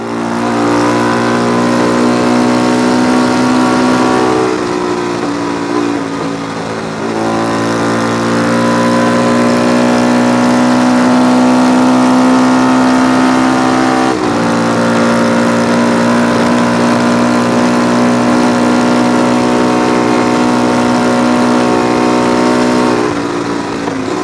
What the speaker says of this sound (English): On the approach to Handley's, I ran up and caught Johnny Ray riding a weird 500 Evel Knievel type bike